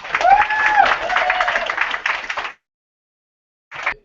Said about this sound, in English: I didn't mean to interrupt the applause